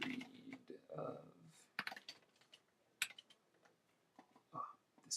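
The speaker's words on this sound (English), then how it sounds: "this keyboard I'm using doesn't have arrows. It's tiny." Fast typing on a tiny computer keyboard with no arrow keys, used at a desk during Arduino breadboard DMX controller development, gives bursts of light clicks of uneven rhythm that stop and start again, fairly close and quiet, with no talk.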